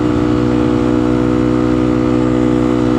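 A Honda Grom 125cc motorcycle engine fitted with an aftermarket exhaust drones loudly and steadily up close at a constant, even pitch for the whole stretch, with no voices.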